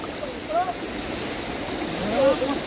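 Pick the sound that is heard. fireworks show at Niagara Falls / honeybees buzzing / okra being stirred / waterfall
waterfall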